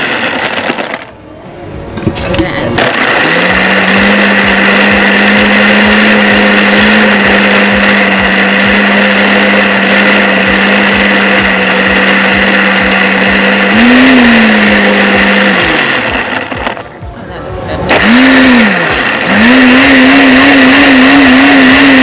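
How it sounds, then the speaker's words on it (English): A bar blender whirs loudly and steadily, blending a frozen strawberry daiquiri, then pauses briefly and restarts with a wavering motor pitch, with no talk over it. "You have to set the calibration of your blender."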